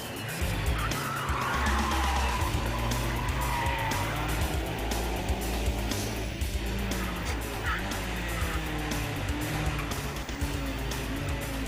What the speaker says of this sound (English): On the brakes, into the chicane, just under 1 G of braking force.